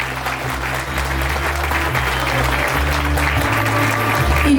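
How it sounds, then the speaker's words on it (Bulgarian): Guests at a Bulgarian wedding applaud the bride's father with sustained, dense clapping that runs the full few seconds, layered over music with a strong low beat. "Аплодисменти за таткото на булката."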